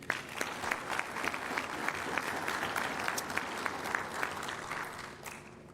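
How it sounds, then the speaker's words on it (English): An audience at a community meeting about a highway improvement project gives sustained applause for a congressman, with many hands clapping steadily and a few sharper claps standing out, fading slightly near the end. "Loud and proud round of applause, please"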